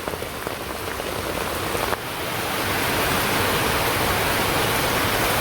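Rain falls in a steady, broad wash of noise that swells slightly heavier partway through, then keeps pattering evenly on surfaces all around.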